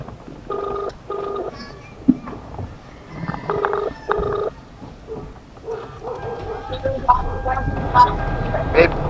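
Outgoing mobile phone call ringing back, with repeated paired tone bursts at a steady rhythm over background noise and faint voices.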